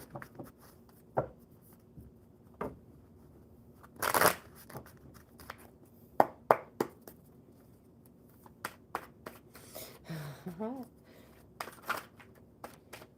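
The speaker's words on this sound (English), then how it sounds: "Get these shuffled up really good." Playing cards are shuffled by hand during a live coffee-club card session, with scattered riffles, crisp snaps and taps standing out against a quiet room, plus one louder burst of riffling.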